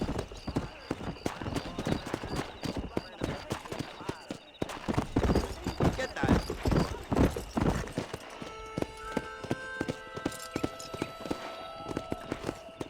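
Horse hooves gallop in the Red Dead Redemption video game, a dense, fast rhythmic clip-clop that runs throughout, with talking voices over the hoofbeats and music rising toward the end.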